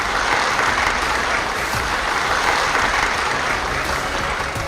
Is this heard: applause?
yes